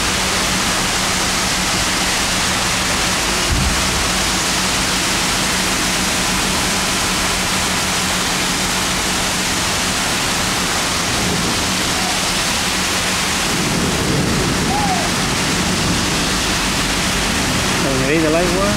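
Heavy rain pours down on a flooded bridge in Xàtiva, Spain, where rising water traps a car, making a constant loud roar of rain and rushing water, with a low hum early and faint voices near the end.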